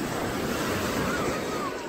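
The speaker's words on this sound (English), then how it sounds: "Let's get past the waves." Ocean waves break on the shore at Clearwater Beach in a steady, loud wash of surf and wind noise, close and continuous.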